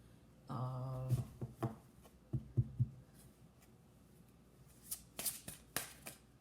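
Playing cards are shuffled in a few quick riffling bursts, soft flapping and clicking in short clusters separated by brief pauses, close and quiet.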